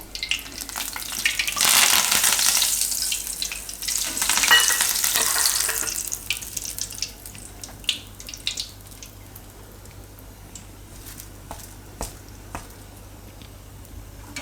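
Curry leaves hit hot oil with a loud, bright burst of sizzling and crackling that peaks early, then settles into a quieter, steady fry with occasional pops.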